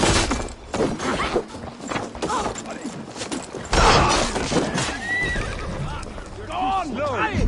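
Several horses neigh and whinny over clattering hooves and commotion during a raid in Assassin's Creed Valhalla, with voices shouting amid a busy, noisy scene.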